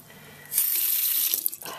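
Tap water runs into a sink, starting abruptly as a steady, close, broadband rush that holds for over a second before sputtering and changing as the flow is adjusted.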